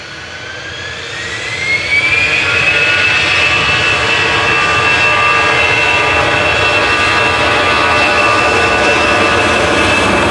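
An EasyJet jet airliner takes off from Manchester Airport bound for Alicante, its engines spooling up with a rising whine that settles into a loud, sustained piercing tone over a continuous roar, no voices present.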